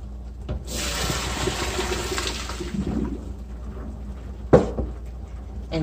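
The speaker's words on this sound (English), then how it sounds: "I have one of the faucets that has a sprayer. So I use that, and I just go over it really lightly" A kitchen faucet sprayer hisses as it rinses cooked pasta in a strainer, a steady rush of spraying water lasting a few seconds, then fading, followed by a sharp clank and some light rustling.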